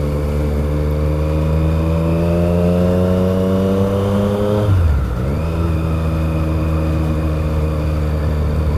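Triumph Street Triple motorcycle fitted with an SP Engineering exhaust, close and loud, revs climbing steadily in a deep growl and then dropping sharply before settling back to a steady drone, with no talking.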